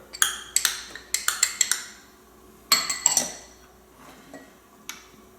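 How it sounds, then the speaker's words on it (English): Vinegar and Dijon mustard stirred in a bowl for a salad dressing, a run of quick metallic clinks of a utensil against the bowl, then a second cluster and a few faint taps, close and alone. "we're going to mix the vinegar and the Dijon mustard"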